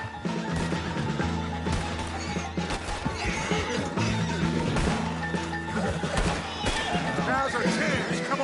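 A horse whinnies in a video game amid a loud, busy mix of music, gunfire-like crashes and hoofbeats, with voices talking over it.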